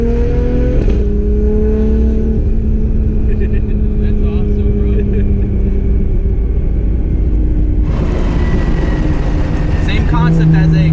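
An 1100 hp Nissan R32 GT-R with a sequential gearbox revs loudly and close up, its engine tone holding steady between sharp gear changes near the start and again late on, with a hard rasp after the second shift.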